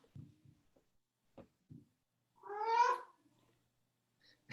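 A cat gives a single clear meow, close and fairly loud, preceded by a few faint soft thumps in an otherwise quiet room.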